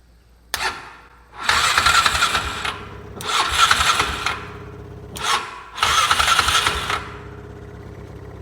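Close up, a Polaris Sportsman 500 ATV with a faulty ignition switch gets a sharp click and then three whirring cranking attempts of a second or more each, separated by brief pauses, and the engine never catches.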